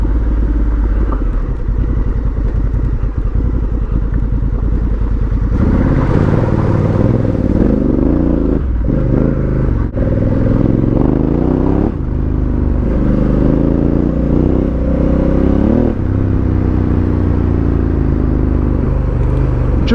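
A Honda Africa Twin motorcycle ridden in full DCT automatic mode, its engine droning loud and close throughout, rising in pitch as it accelerates and shifts through gears.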